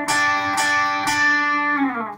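Electric guitar playing a short phrase from a solo: three picked notes ringing clearly one after another, the last sliding downward as it fades, with no voice.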